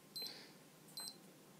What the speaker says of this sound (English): I'll just turn the beep off there